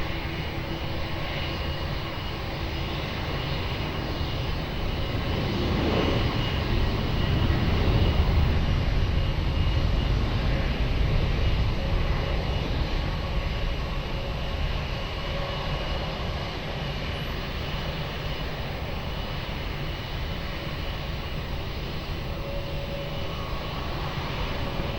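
An airliner on approach to runway 20 at Lisbon Airport drones with a steady, loud engine roar that swells slightly mid-way, with no talk over it.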